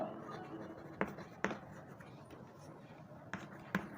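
Pen or marker strokes on a board while a maths solution is written out, heard as faint, close scratching with a few sharp taps at irregular intervals and no talk.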